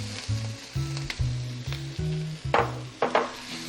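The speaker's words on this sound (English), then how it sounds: "So I'm going to add in my mushrooms." Mushrooms hit a hot pan of browned onions for a lasagna sauce and sizzle steadily, with a few sharp scraping stir strokes near the end over a low, humming tonal background.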